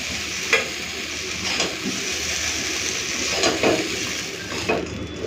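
Okra fried with onion sizzles steadily in hot oil, with a constant crackling hiss broken by a few scraping stirs of a spatula against the pan.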